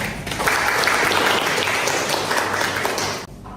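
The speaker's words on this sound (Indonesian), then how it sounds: "Terima kasih, Aplaus." A roomful of people applauds in a classroom lecture setting, a dense steady clapping that lasts a few seconds and then stops abruptly.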